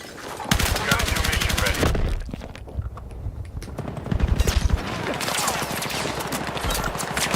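Rapid bursts of video game gunfire rattle loudly in dense strings, pausing briefly midway before resuming, with a voice talking over parts of it.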